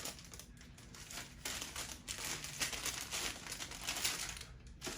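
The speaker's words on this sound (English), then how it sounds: "Where you peel that tissue back." Tissue paper peeled back and crinkled inside a sneaker box holding Union LA x Air Jordan Retro 4 Off Noir shoes, a close, quiet run of dry rustling and crackling that continues without pause.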